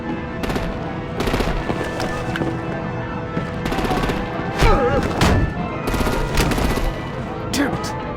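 Gunfire and artillery during a firefight in the Batman: The Enemy Within video game, with repeated rapid bursts and heavy booms at close range, mixed with game sound effects and a brief shout.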